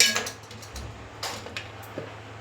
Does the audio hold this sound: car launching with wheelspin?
no